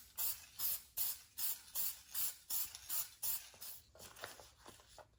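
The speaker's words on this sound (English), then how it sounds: "give it a clear coat spray before using it as decoupage paper" A clear coat spray can hisses in about a dozen short, evenly spaced bursts while coating paper for decoupage, each spurt close and fairly quiet with brief pauses between them.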